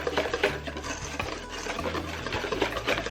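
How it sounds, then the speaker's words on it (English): Pumpkin bread batter with cinnamon and allspice being mixed in a bowl, a steady wet churning and scraping with soft rhythmic thumps, close and fairly loud. "So now, after adding in all our spices, we're going to give this a good mix."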